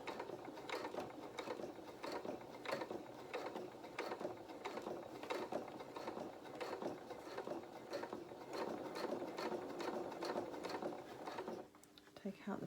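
A sewing machine stitches a doll's apron dress, running in a steady rapid mechanical rhythm with clicking gear sounds, then reversing near the end, while a person talks over it.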